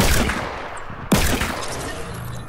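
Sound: gunshots in a video game

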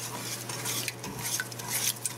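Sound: stirring citrus marmalade with pectin in a pot on high heat

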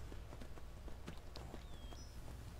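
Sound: horse hooves walking in video game Skyrim

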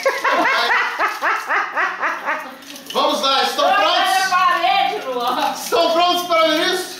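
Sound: dog whimpering during a cold bath

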